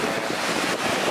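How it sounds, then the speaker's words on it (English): Ocean waves breaking at a San Diego beach, a steady broadband wash of surf with some wind buffeting the microphone, no voices. "These are actual legit waves."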